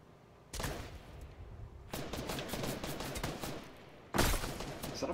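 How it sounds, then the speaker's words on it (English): Bursts of automatic gunfire in Fortnite, a sharp volley followed by sustained rapid shooting and a final loud burst, fairly close and without speech. "He was standing straight still shooting at me."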